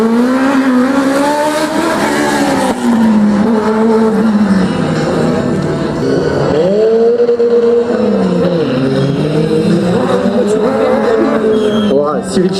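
A BRC race car drives hard on a slalom course, its engine rising and dropping through gear changes in a continuous, loud roar, heard under ongoing commentary.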